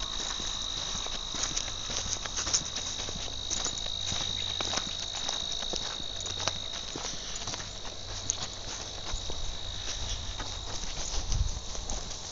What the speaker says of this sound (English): Lots of crickets today